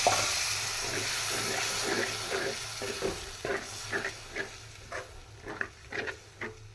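Water splashes and trickles into a pan of turkey berries with a soft sizzle, followed by a series of short, distinct splashing bursts close by.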